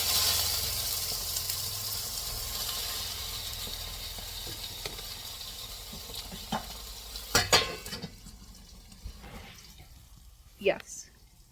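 Slice of toast frying in a pan, a steady soft sizzle running throughout, with a few louder clatters and scrapes near the end as it is flipped, and a brief voice.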